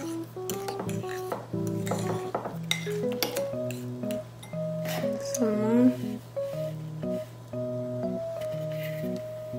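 Almond flour banana bread batter folded in a bowl, with soft scraping and clinks of a utensil against the bowl under intermittent talking.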